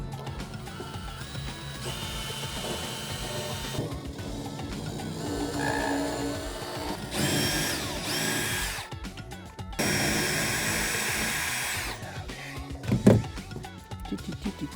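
A power drill boring holes during a boat rebuild whirs in several bursts, with louder high-pitched runs in the middle and near the end and a sharp clunk toward the close, set against workshop background noise.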